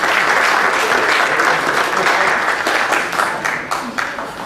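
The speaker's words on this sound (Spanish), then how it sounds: "Le damos la bienvenida, por favor, con un aplauso" Audience applause welcoming a speaker at a book presentation in the Museo Nacional de Culturas Populares, dense clapping from a crowd that thins into scattered individual claps as it fades toward the end.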